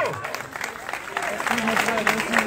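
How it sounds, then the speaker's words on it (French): Audience at an outdoor festival stop in Samatiguila applauding, uneven clapping that builds toward the end, mixed with voices and a brief tonal sound. "Je voudrais qu'on applaudisse très très fort pour le président Focus Moro"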